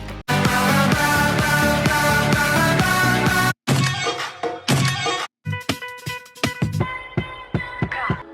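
A trending song plays as a preview in Instagram Reels: loud, full music with beats and melody, cut into several snippets by short silent gaps as tracks switch.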